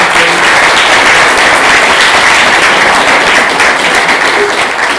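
Audience applause at a Python Brasil tech talk: dense, steady clapping from a crowd, loud and continuous for about five seconds with no talking over it.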